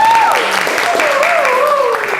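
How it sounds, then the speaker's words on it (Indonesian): A class of schoolchildren claps together at the start of a morning PE lesson on floor gymnastics, a steady burst of close applause with voices calling over it. "Oke, tepuk tangan untuk kita semuanya."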